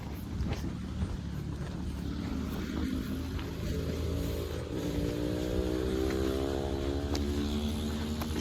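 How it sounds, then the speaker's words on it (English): A motorcycle engine rises in pitch as it accelerates past, fairly distant, over a low background rumble. "motorbikes, dude."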